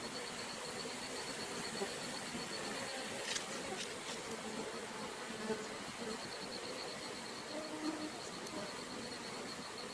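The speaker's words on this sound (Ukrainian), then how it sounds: "До самого ранку залишки бджіл будуть сидіти купою біля лядка, поволі заспокоюючись." Honey bees buzz steadily around a log hive outdoors, a dense continuous drone at moderate distance with occasional closer passes, no talk.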